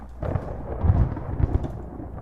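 A short rumble of thunder plays as a podcast sound effect, a loud, deep roll lasting a couple of seconds with no voices over it.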